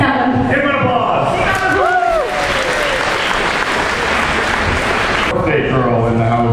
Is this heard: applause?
yes